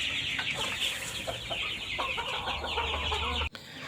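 Chickens of mixed ages, from chicks to young birds and breeding hens, cluck and call continuously on a KUB chicken farm, a dense overlapping chorus close by with a brief cut near the end.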